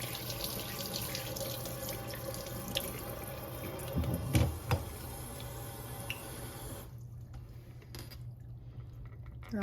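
Water runs from a kitchen tap, rinsing a mini waffle maker, a steady close splashing stream with a brief louder gush midway before the flow cuts off, leaving quiet dripping.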